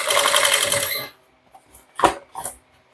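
A sewing machine runs a quick burst of rapid stitching along a mini bucket bag seam, then stops, followed by a few soft knocks and clicks of handling.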